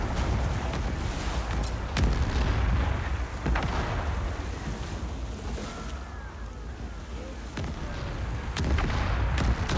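Cannon fire in an indie naval video game, with a few sharp booms spread over a rushing backdrop of ocean waves and wind.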